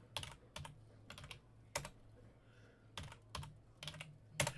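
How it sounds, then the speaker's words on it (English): Someone types one-handed on a computer keyboard in a short run of irregular clicks and clusters of keystrokes, close and fairly quiet, with no one talking. "I'm typing one-handed, so I know my typing sucked already."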